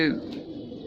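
Pigeons coo in a short burst of soft, low rounded calls, fairly close, with a brighter note at the start; a voice also seems to be present briefly.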